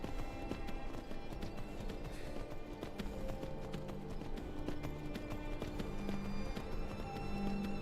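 Horse hooves clip-clop steadily in a Skyrim role-play game as the mount runs along, a quick even patter at moderate level over faint background game ambience.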